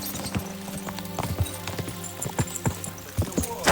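Horse hooves clip-clopping in the video game Kingdom Come: Deliverance II, an uneven series of close, distinct hoof strikes over a low sustained musical drone.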